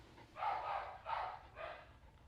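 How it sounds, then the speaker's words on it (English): A dog barks somewhere in a grooming salon, three muffled, fairly faint barks spaced about half a second apart over low background noise. "Is it because you hear Booger barking?"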